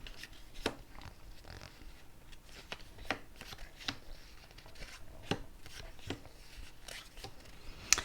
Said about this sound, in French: on va recouvrir chaque carte de 2 cartes